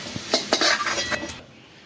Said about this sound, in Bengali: আর একটু সামান্য তেল দিয়ে আলুটা ভেজে নেবো